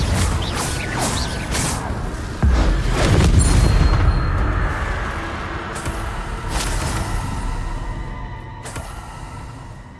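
A Confringo blasting spell detonates in Hogwarts Legacy, a deep booming explosion with a rumbling low-end surge that swells and then fades into a lingering mechanical, debris-laden tail, close and loud amid scattered whooshing effects.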